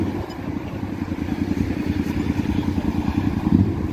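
A motorcycle engine idles with a steady, rapid putter, close and fairly loud, revving slightly near the end.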